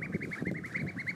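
Ducks in a sunny yard give a quick, steady run of honking quacks, repeated rapidly and close by, with no talking over them.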